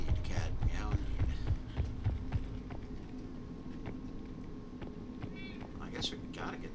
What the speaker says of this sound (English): Meow indeed, cat. Meow indeed.